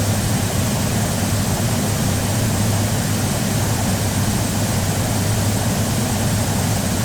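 Boeing 737-800 jet engines roar steadily and loudly on the takeoff roll in a flight simulator, a dense unbroken rumble with a thin high whine above it.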